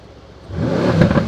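A new car's engine revs up from a low idle into a rising, building roar that swells close and loud over about a second, with no talk over it.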